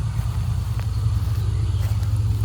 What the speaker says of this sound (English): Please speak loud because there's a lot of traffic.